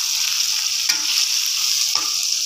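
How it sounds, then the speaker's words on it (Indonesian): Chili sambal of bird's-eye and red chilies with shallots fries steadily in a pan, a close, constant sizzle broken by two brief scrapes of stirring. "kali ini saya lagi goreng sambal"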